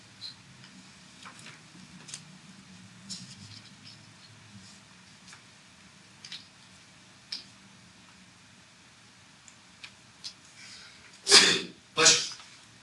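Two loud sneezes in quick succession near the end, following faint shuffling and tapping sounds in a quiet room.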